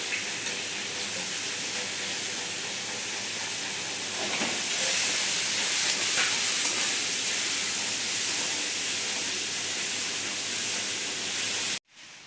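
Finely chopped onions frying in a pan, a loud, continuous hissing sizzle held close throughout, swelling slightly midway, then cutting off sharply near the end; no talking.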